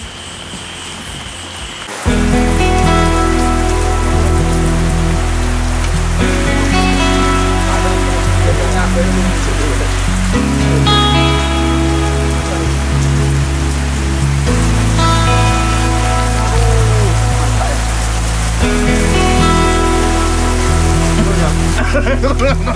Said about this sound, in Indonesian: Ini kan cuaca lagi hujan.